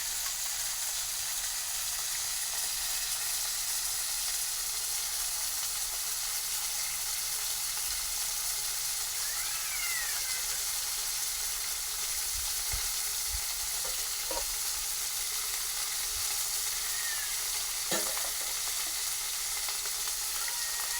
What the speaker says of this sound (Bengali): ভেজে নেবো এবার মাছগুলো ওদিকে ভাজা হচ্ছে